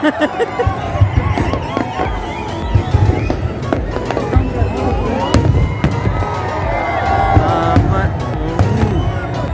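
New Year fireworks in Dubai burst and crackle repeatedly with sharp bangs and pops, loud and close, while people talk and call out in the background.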